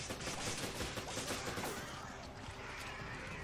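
Sustained bursts of rapid video-game gunfire from Resident Evil 5, dense and continuous like automatic weapons, loud and close throughout with no talking.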